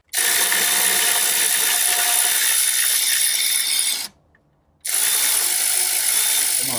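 A ratcheting power tool spins loose a bolt on a flooded Cadillac Allante, a loud continuous mechanical whir that stops briefly and then resumes.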